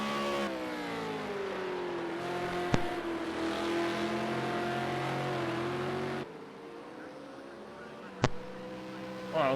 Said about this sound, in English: now we can see Dirty Monkey's car